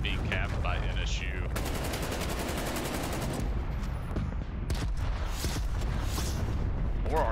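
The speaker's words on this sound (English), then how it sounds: "More artillery coming from Northwestern." Gunfire and artillery strikes in a Call of Duty match, rapid automatic bursts and heavy booming impacts packed densely together, loud and continuous, with brief metallic ringing between blasts.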